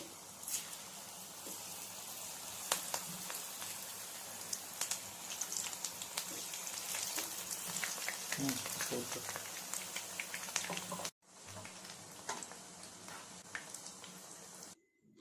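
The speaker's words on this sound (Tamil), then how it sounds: "போட்டு எண்ணெயில் பொரிச்சு எடுக்கலாம்." Egg chilli pieces frying in hot oil for an egg 65 evening snack, a steady close bubbling sizzle with crackling pops throughout, briefly cut off and then resuming at a similar level.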